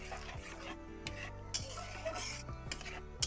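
Sago simmering in milk with a little salt in a pot, stirred with a spoon: soft scraping and clinks against the pot over a faint bubbling sizzle, quiet and close, with a few sharper knocks.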